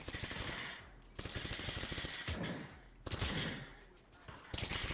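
Rapid automatic gunfire in the game CS:GO played in virtual reality, coming in four long rattling bursts separated by brief pauses and heard fairly faintly.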